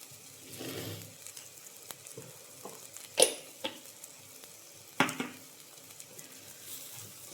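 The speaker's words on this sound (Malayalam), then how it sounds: "ഇത്രയും ചേർത്തിട്ട് നന്നായി ഒന്ന് ഇളക്കാം" A spoon stirs fish masala with spice powders such as coriander in a pan. A soft, faint sizzle is broken by a couple of sharp scraping knocks against the pan.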